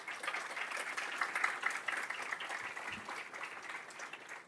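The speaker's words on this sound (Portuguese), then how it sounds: "então a salva de palmas para as mulheres." Steady audience applause for the women present at a public development forum in Bahia, a continuous wash of many clapping hands at moderate loudness with no voices on top.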